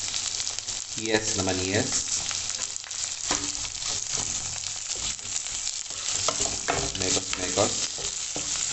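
A large batch of onions frying in olive oil for a quick breakfast dish makes a continuous sizzle with some stirring noise, heard under a person talking.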